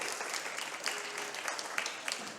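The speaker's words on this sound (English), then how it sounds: "So one more round of applause for Steve." Applause from the audience at Summer Games Done Quick 2022 after a speedrun of The Little Mermaid, a steady, fairly faint wash of clapping running through the whole moment.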